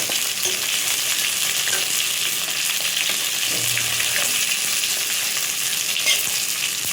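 Black and white cumin seeds sizzle steadily in hot oil while tempering for a Bengal arum and hilsa fish head dish, a constant close, dense frying crackle with a faint low hum partway through.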